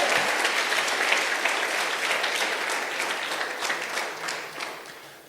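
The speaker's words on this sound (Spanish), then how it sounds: "aplaude al Rey en esta mañana" Dense, loud applause from a church congregation during a Spanish-language morning service, sustained for several seconds before tapering off toward the end.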